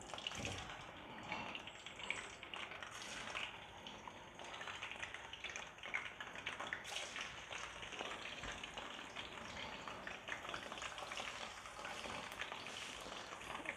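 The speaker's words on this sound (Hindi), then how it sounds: "चिकन हमारा फ्राई हो रहा है" Chicken frying in plenty of oil in a karahi for malai karahi makes a continuous, fairly faint bubbling sizzle with occasional stirring, and no one talks.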